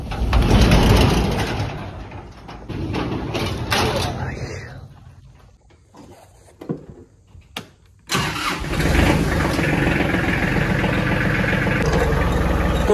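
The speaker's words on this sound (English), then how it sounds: "So I'm gonna put this little tractor to work" A small tractor engine runs loudly, fades and sputters briefly, then roars back up and holds a steady, close chugging drone.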